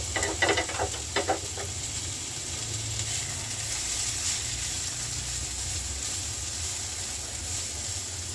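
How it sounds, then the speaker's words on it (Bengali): Chopped carrot, tomato and onion fry in a pan with a steady, even hiss of sizzling oil, a few brief stirring scrapes early on, then continuous close frying to the end. "আমার গাজর টমেটো পেঁয়াজ ভাজা হয়ে গিয়েছে।"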